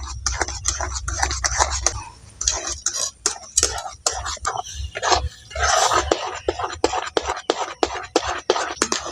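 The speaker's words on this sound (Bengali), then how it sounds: "এই সুজিটাকে নাড়াচাড়া করে রান্না করতে হবে" A spoon stirs semolina in a pan for mango halwa, with sharp, rapid clinks and scrapes against the metal repeating in an irregular rhythm, close and clear, with no talk.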